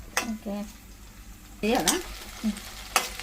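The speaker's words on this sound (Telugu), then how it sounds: "మంచిగా లో ఫ్లేమ్లో ఇట్లా ఫ్రై చేసేసుకోవాలి" Ridge gourd peel and green chillies fry in oil over a low flame, giving a soft, steady sizzle with occasional stirring clatter and short bursts of a voice over it.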